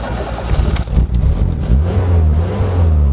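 A small car converted to electric power by EV West revs in a workshop, a loud close whirring motor swell with rattling and jangling over it, rising and falling in pitch across the short burst.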